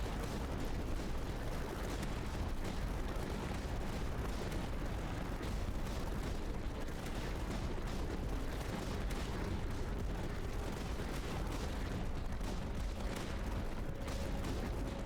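Continuous gunfire and explosions in the tower defense game Tower Dominion: a dense, unbroken barrage of crackling shots and rumbling booms, steady and loud throughout with no talking.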